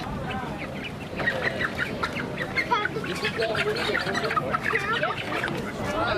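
Chickens, including black chickens, cluck and squawk in a busy flock close by at a chicken drop bingo event at a July 4th celebration, a continuous jumble of fowl calls with people talking faintly underneath.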